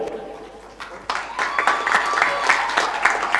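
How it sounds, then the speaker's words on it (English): Audience applause for student debaters at an inter-class debate competition, starting thin and swelling after a second into a steady round of clapping with some crowd noise. "Let's applaud all our debaters once again."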